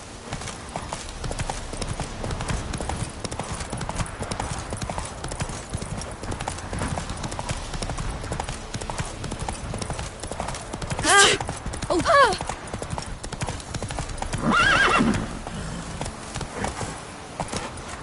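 Roach the horse gallops in The Witcher 3, hoofbeats pounding in a fast, steady rhythm throughout, with a few brief louder bursts and a voice calling out partway through.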